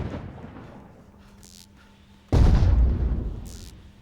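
A rocket launcher in the game Edward the Man Eating Train fires: one sudden loud booming explosion arrives midway and rumbles as it decays, with fainter hiss bursts around it.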